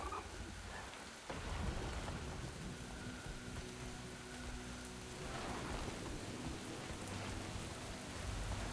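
Heavy rain pours steadily in the Guild Wars 2 game world, with low rumbles of thunder rolling beneath the constant hiss, no voices present.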